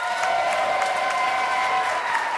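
Live audience at Canfor Winter Gardens, UNBC, applauding and cheering steadily at a news broadcast, a dense, sustained wash of clapping with a ringing tone running underneath throughout.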